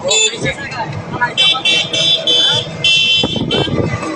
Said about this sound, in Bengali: আমরা গাড়ি দিয়ে যাচ্ছি